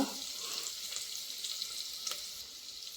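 Chopped ginger and garlic fry steadily in hot oil in a pan, a continuous soft sizzle with faint crackles throughout, close and quiet, with no voices.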